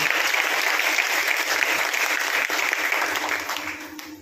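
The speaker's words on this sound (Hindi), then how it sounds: "हम चाहते हैं कि इनके लिए एक बार जोरदार से ताली हो" An audience at a hotel meeting applauds loudly and continuously, a dense wash of clapping that stays strong before tapering slightly at the end.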